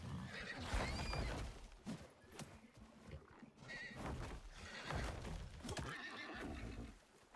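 Horse neighs and whinnies in the survival video game Icarus, with clip-clopping hooves around the calls, fairly loud and close with no talking.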